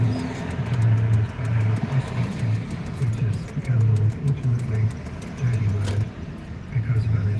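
Car rolling slowly along a road, a low engine hum with uneven surges and a rumbling undertone, while a person talks over it.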